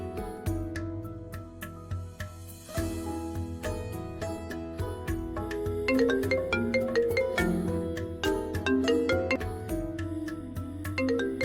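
A mobile phone rings with an incoming call, a melodic, chiming ringtone tune repeating for several seconds, loud and close with no talk over it.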